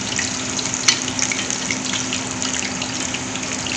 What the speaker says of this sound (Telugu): ఇలా ఫ్రై అయినవి తీసేసుకోవాలి.